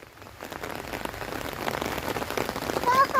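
Heavy rain pours onto a farm plot planted with chilli seedlings and coconut palms, a dense steady hiss that grows louder toward the end, with a faint voice briefly audible.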